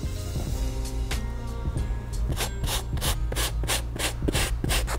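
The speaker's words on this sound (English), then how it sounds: "So as I'm starting to clean the mesh on this toe box, I will say that it is pretty delicate." A stiff cleaning brush scrubs the delicate mesh toe box of a Nike Air Max 1 Anniversary sneaker, giving steady rubbing strokes in a quickening rhythm, close and fairly loud, with no talk.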